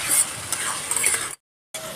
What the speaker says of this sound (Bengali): সস দিয়ে ভালো করে কষানো হয়ে গেছে।